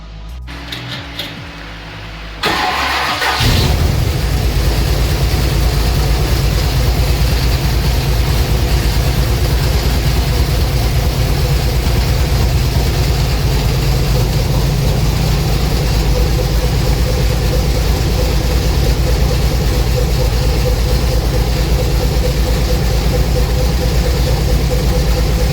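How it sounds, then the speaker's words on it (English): Ford engine, just back together after a head gasket repair, cranks and catches within a few seconds, then settles into a steady, loud, close idle that runs on unchanged. "Well, the engine is running good"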